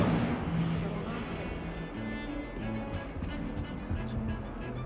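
Casting the Incendio fire spell in Hogwarts Legacy gives a loud, fiery whooshing burst at the start, which fades into a rumbling, crackling tail under game sound and a voice.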